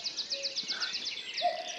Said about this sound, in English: Got nightingale that side.